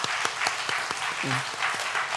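A church congregation at a Sunday worship service applauds to welcome members, a continuous wash of many hands clapping with a few distinct louder claps, and a brief voice sounding underneath.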